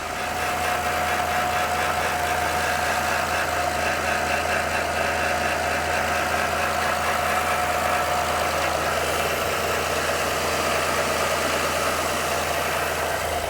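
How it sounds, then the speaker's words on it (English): The engine of a 2005 Honda Odyssey runs steadily, a close, continuous mid-pitched drone with a faint tone and slight irregular knocking, holding at a constant level without talk. "that does not sound like a blown engine, although there's some weird noise there"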